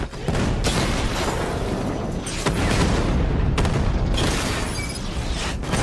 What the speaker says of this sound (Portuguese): dispositivo vai explodir.